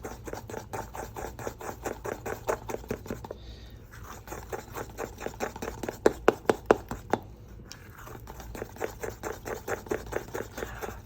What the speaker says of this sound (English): now we're going to carefully mix this all up